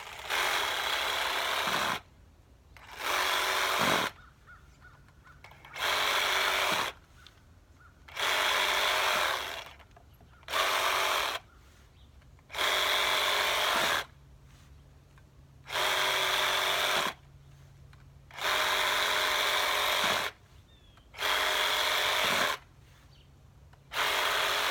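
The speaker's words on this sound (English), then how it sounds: "I found this my Porter Cable reciprocating saw with a medium blade really does a nice job quickly" A Porter Cable reciprocating saw with a medium blade cuts through the root-bound soil ball of a potted plant in about ten loud, steady bursts of roughly two seconds each, separated by brief pauses.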